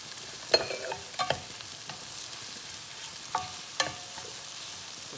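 Shrimp frying and being stirred in a pan for shrimp fried rice, a steady sizzle broken by several sharp scraping clatters of the utensil against the pan, no talking.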